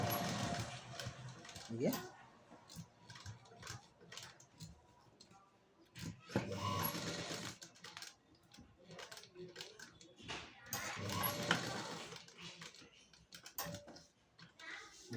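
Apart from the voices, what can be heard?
sewing machine stitching a blouse neck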